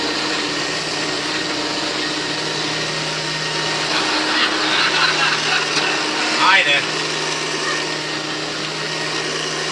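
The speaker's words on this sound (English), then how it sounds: "I'm vacuuming the rug." A vacuum cleaner runs on a rug indoors at night, its loud steady motor drone filling the whole stretch with small surges in pitch.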